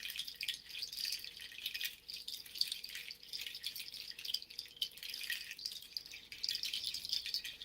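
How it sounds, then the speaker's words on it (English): Several seed pod rattles shaken together in a steady, dense patter that sounds like rain or running water, close and continuous. "when we layer them together, it can sound like rain or like running water."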